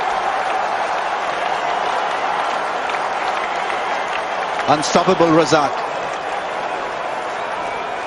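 A cricket stadium crowd roars and applauds continuously at a distance, a dense wash of cheering with a commentator's voice rising briefly over it.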